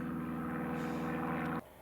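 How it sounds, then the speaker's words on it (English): A biplane flying overhead in the Kent countryside, its propeller engine droning loudly and steadily before dropping away suddenly. "Plenty of biplanes flying around today, as you will have noticed."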